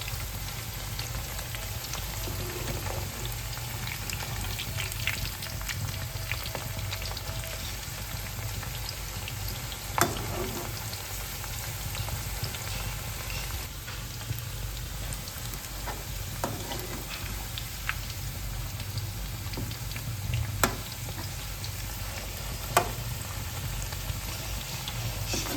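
Onions frying in hot oil for a jackfruit curry, a steady dense sizzle and crackle holding evenly throughout with occasional sharper pops and stirring clicks, no voices.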